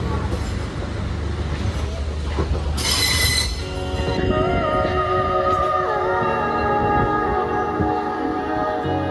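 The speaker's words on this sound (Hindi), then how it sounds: "तो हमने तुरंत ट्रेन पकड़ी और सीधा घर की तरफ रवाना हो गए।" Mumbai local train running along the tracks, with loud wheel squeal and shrieking rail screech over a steady rumble of carriages, continuous and close throughout.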